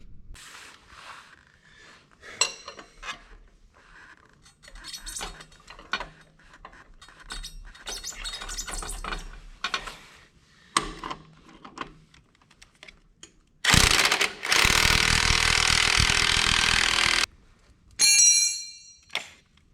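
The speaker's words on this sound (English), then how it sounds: "Now I'm gonna take this wheel off here and then loosen all these nuts here" A wheel comes off a farm implement and its nuts are loosened ahead of a blade change: scattered close metallic clicks and ratcheting, then a loud sustained whirring burst of about four seconds and a shorter one after.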